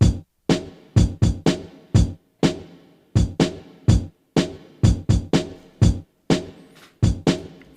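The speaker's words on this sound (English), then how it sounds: "I created a new pattern with this kick and snare that sounds like this" A sampled kick and snare with reverb repeat in a steady, punchy drum loop, each hit sharp with a short ringing tail, dry and alone with no other instruments.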